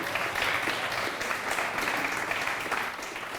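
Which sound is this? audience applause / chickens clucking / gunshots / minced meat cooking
audience applause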